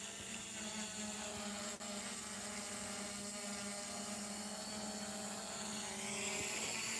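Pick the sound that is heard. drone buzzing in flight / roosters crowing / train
drone buzzing in flight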